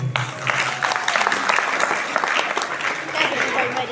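Audience at a Bhagavat Katha religious gathering claps in a dense, sustained round of applause lasting several seconds, close and fairly loud.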